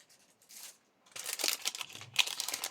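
Small paper envelopes for an advent calendar craft, handled close up with soft rustles at first, then denser crinkling and papery rubbing.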